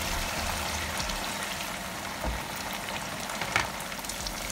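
An egg stew with tomatoes simmers in a pot, giving a quiet, steady bubbling hiss with a few faint pops and no talking.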